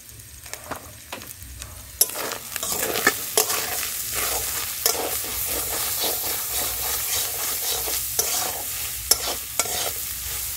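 Spices cooking down with salt, sugar and turmeric for a vegetarian taro-leaf greens dish, a steady close sizzle broken by repeated scraping stirs of a spoon in the pan, with no talking.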